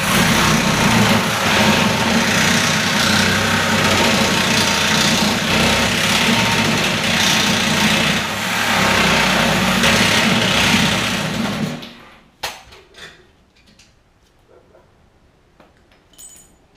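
An electric concrete mixer runs steadily and loudly with a constant motor drone and rattling drum for about twelve seconds, then cuts off, leaving faint clicks and knocks.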